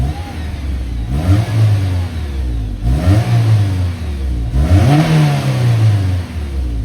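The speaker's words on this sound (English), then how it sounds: "Let's get a sound clip with the stock exhaust on first. I'll just start it and give it a few blips." A Honda S2000 engine with stock exhaust is revved three times in quick blips, each rising and falling back to a fairly quiet idle, close and clear.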